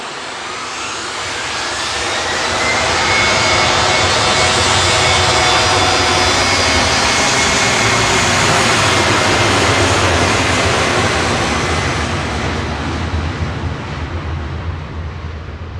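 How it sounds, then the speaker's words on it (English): An Embraer E190 jet airliner departs for Lisbon, its engines roaring loud and steady as it builds to a long sustained rush, then slowly eases as it pulls away. "It's an E190."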